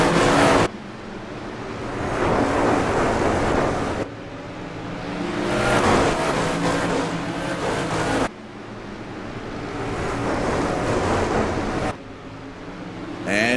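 Engine roar from 360 sprint cars racing at Irwindale Speedway, a loud continuous drone that surges and dips in repeated waves as the pack passes, with no talk heard.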